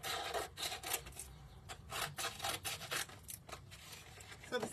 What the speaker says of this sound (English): I want to sand just a little tiny bit more here.